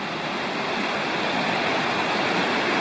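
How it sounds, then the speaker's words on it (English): Steady, full rushing of Sycamore Creek in the Cherokee National Forest, formed where two big creeks meet, a dense unbroken wash of water at close range with no voices. "off to the right, you can hear it but can't see it, is Sycamore Creek"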